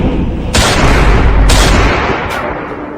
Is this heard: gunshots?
yes